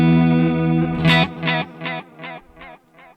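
Electric guitar played through a NUX Tape Echo pedal with wow and flutter, a sustained warbling chord followed by a train of about six fading repeats, each softer than the last.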